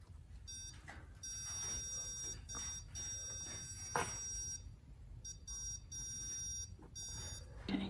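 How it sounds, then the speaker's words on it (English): A stud finder sweeps across a garage wall, giving a steady series of high electronic beeps in repeated bursts with short pauses between them, close and fairly clear over a low background hum. "So we're going to be finding those stud locations with the stud finder."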